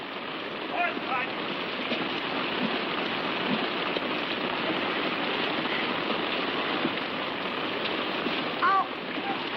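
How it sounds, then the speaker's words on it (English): Steady, dense rain hissing on surfaces in a 1953 comedy film, constant and fairly loud throughout, with a brief faint voice near the start and end. "Kill the rain!"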